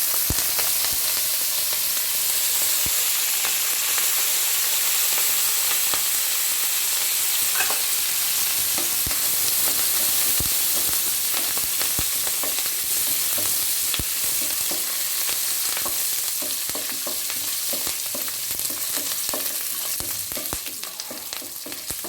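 Dried red chillies and curry leaves sizzle and crackle steadily in hot oil while being stirred, a continuous close frying hiss with scattered pops throughout.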